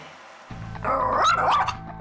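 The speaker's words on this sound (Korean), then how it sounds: "갑자기 짖어대는 잭슨" A dog named Jackson suddenly breaks into loud, close barking after a quiet moment, a rapid burst of sharp barks and yips.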